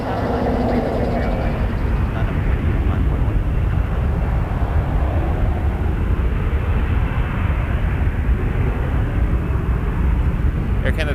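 An Air Canada Airbus A321-200 airliner at Toronto Pearson Airport gives off a steady, loud broadband jet roar that holds evenly throughout, with voices talking over it.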